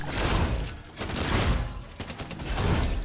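An auto turret firing in the Fortnite video game, rapid bursts of gunfire in dense clusters with brief gaps between, loud and close.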